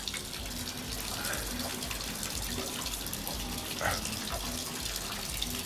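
Water from a shower in Billund runs continuously, a steady close hiss of spray with faint splashes and no talking over it.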